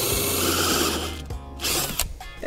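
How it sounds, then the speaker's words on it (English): A power drill fitted with a paddle bit on an extender bores through wood, whirring loudly and steadily before its pitch drops and the sound breaks off in short bursts. "we're switching to a paddle bit, I believe is what it's called, with an extender thingy so that we can drill all the way through"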